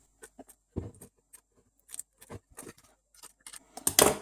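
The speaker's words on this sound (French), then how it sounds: "je vais venir du coup recouper un petit peu sur les bords" Scissors trimming around the edges of a seashell craft piece, a series of short crisp snips spaced irregularly, close and fairly quiet, with a denser louder burst of cuts at the end.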